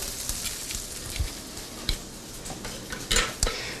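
Asparagus pan-roasting, sizzling steadily in the pan under several sharp metallic clinks and scrapes of a utensil against the pan, close and fairly loud.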